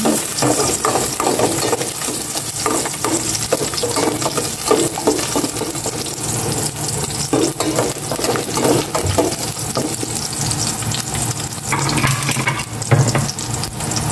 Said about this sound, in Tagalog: Maglagay na ako ng cooking oil. Isa ko itong bawang.